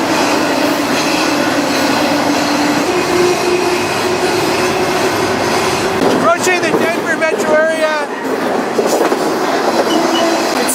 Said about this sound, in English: This is a legit train.